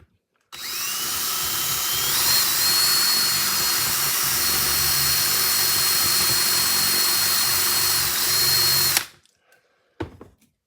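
A large drill bit bores out a hole with a steady, loud, continuous whine lasting about eight seconds, then stops abruptly, leaving a few faint clicks afterward.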